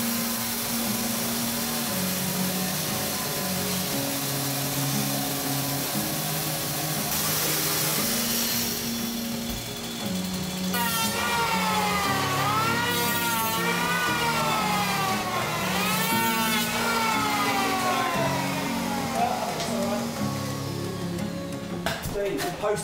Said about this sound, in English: So we're going to use a chainsaw and see how that goes.